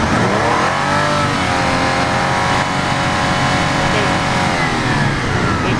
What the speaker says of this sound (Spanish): Acelera y lo mantiene acelerado.